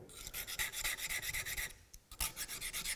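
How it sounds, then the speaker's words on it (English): Woodworking knife being sharpened on coarse, fine and super fine abrasive, giving steady rhythmic rasping strokes, about a dozen back-and-forth passes with a brief pause midway, close and fairly quiet with no talking. "So I'm going to just touch up my knife."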